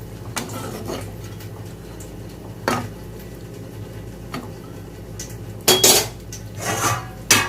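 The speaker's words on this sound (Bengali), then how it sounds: "দেখো, এরমভাবে শুধু কষিয়ে কষিয়ে রান্না করতে হবে।" Chicken being sautéed and stirred in a pan without spices, heard as sparse metallic scrapes and clinks of a spoon against the pan over a low background hum, with a louder cluster of knocks near the end.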